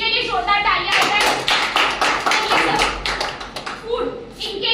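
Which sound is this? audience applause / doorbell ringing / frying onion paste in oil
audience applause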